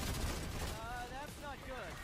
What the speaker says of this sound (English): Your turret's under fire.